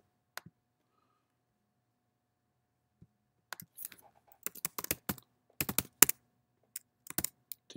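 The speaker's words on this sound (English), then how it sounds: "I guess I can retype that" Computer keyboard keys click in scattered taps, then a quick irregular run of typing, close and crisp against near silence, no voices.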